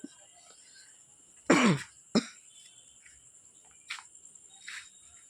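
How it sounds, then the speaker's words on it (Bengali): A couple of close, sharp coughs from someone with a cold, then two fainter coughs a few seconds later, against a quiet background with a steady high hum. "ঠান্ডা গরমে শরীর খারাপ হয়েছে, বুঝলে তো, কাশিটা হয়েছে।"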